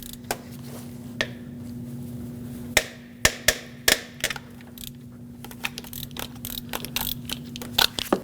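Clicks and knocks of a ratchet breaking loose and backing out the two 14mm alternator bolts on a 2006-2015 Lexus IS250, heard close up as scattered sharp metallic clicks and thumps over a steady low hum, with no talk.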